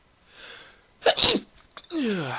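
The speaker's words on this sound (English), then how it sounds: "Looks like I'm going to sneeze." A single sharp, close sneeze preceded by a quick inhale, followed by a short breathy sound.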